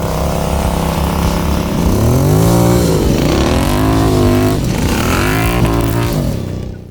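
A Royal Enfield Interceptor 650 Scrambler motorcycle engine revs loudly and close, its throaty exhaust swooping up and down through several throttle blips before fading at the end, with no talk over it.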